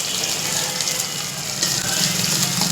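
Onion, garlic, ginger and green chilli frying in a pan for fish curry, a steady broadband sizzle that holds without pause, close and fairly loud, with no talking.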